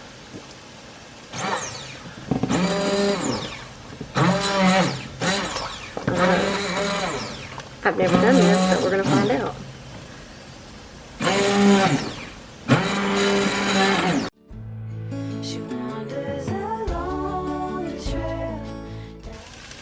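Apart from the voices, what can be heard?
immersion blender blending chicken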